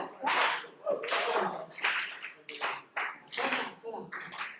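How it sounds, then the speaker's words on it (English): An audience gives a slow clap for Joseph Cooper at a student ministry live stream: irregular bursts of group clapping over about five seconds, loud and close, with voices mixed in. "I want a slow clap."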